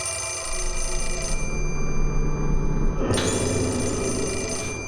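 A telephone rings in an infirmary nurse's station in the horror video game Fatal Frame 4, a steady shrill bell tone holding through the clip over a low ambient drone, with no speech.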